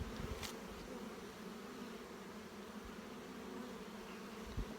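Honey bees hum and buzz in a continuous, close drone as an opened hive is inspected, steady throughout with a brief louder buzz near the start.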